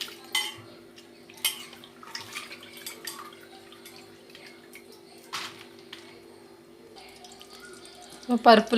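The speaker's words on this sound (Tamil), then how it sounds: "இப்போ வந்து இந்த பருப்பு நம்ம வடிகட்டி எடுத்துடலாம்." Soaked lentils strained in a kitchen for omapodi: scattered clinks and scrapes of utensils, water trickling and dripping, a steady low hum behind, and a clatter at the end.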